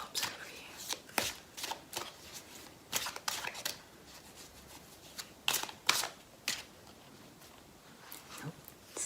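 Tarot and oracle cards being shuffled in repeated riffling bursts, crisp and close, with brief pauses between passes and faint soft speech in the background.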